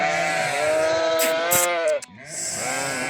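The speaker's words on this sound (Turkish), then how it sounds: "55 baş balalı koyun" A flock of 55 sheep with their lambs bleating together at a farm, overlapping close and mid-distance calls filling the clip with no one talking.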